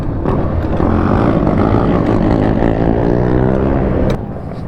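A Honda quad's engine runs loud and steady for about four seconds while being ridden, with harmonic drone shifting pitch as it revs, then dropping off near the end.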